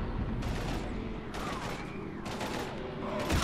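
Sustained gunfire from a Mass Effect 3 firefight, rapid bursts layered over a dense rumbling battle din, with voices briefly shouting over the shooting.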